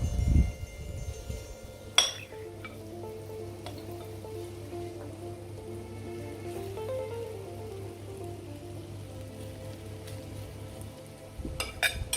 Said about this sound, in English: Our oil is hot. We are going to add all the potatoes now.